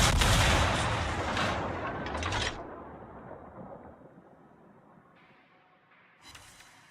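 Warship guns fire in the naval combat game World of Warships: heavy, loud booming salvos with sharp cracks through the first two seconds, then a long rumbling fade, and a faint mechanical clank near the end.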